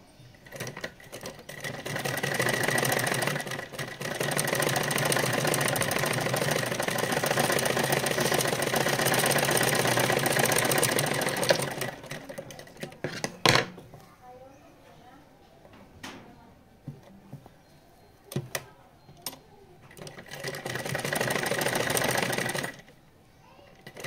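A sewing machine stitches a blouse collar in a long, steady, close mechanical run of about ten seconds, then stops, leaving a few scattered clicks and handling noises before a shorter burst of stitching; someone speaks in between.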